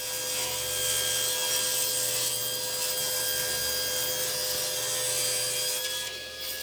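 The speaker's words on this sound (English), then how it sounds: "bring it to my table saw and rip these into oversized strips" A table saw rips wood into strips for a tambour door, its blade giving a loud, steady whine with a dense rasping cut that holds evenly throughout and eases slightly at the end.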